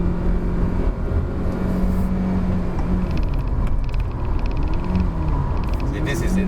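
A 2019 Proton Saga climbing a steep hill road in third gear, its engine droning steadily at low revs through the cabin, with someone talking over it throughout.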